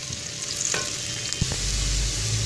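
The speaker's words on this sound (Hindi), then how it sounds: "प्याज को हम फ्राई कर लेंगे। फ्लेम इसके नीचे हाई है" Onions frying in a pan over a high flame, a close steady hiss and crackle with a few stirring clunks and scrapes near the end.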